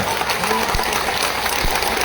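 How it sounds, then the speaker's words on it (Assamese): Crowd applause at a BJP rally: a steady wash of many hands clapping, loud and continuous, with speech mixed in underneath. "সকলোৱে জোৰদাৰ হাত চাপৰি বজাই থাকিব"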